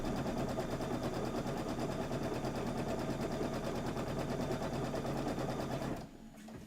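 An embroidery machine stitches a quilt block with a rapid, steady mechanical chatter close by, running continuously alone before stopping abruptly near the end.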